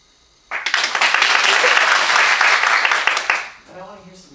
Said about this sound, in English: when he bows, a large applause.